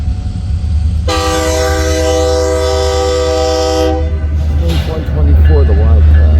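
A freight train of four coal-laden locomotives heading west sounds a loud, sustained multi-tone horn blast lasting about three seconds over a constant engine rumble, followed by people talking.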